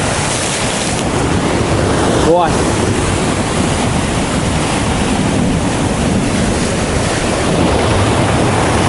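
Sea surf at a December beach in Khosta, Sochi, a steady loud roar of waves breaking on the shore mixed with wind buffeting the microphone, and one short exclamation from a person.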